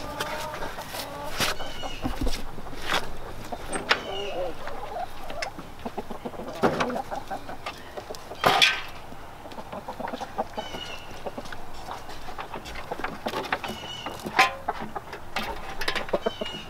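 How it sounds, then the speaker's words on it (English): Chickens clucking in a garden, scattered short clucks and squawks at close to mid distance, with one louder call partway through, over quiet outdoor background. "today we're moving the chickens again"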